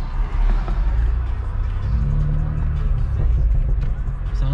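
A sports car's engine rumbles and revs steadily close by, a low throaty drone rising slightly in pitch, with faint background chatter mixed in.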